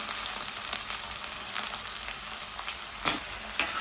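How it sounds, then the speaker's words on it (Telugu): Plantain pieces fry with onions in a hot pan, a steady close sizzle with a few louder clacks of stirring near the end; no one speaks. "ఆ అరటికాయ మొక్కలు బాండీలోకి వేసేసుకోవాలి"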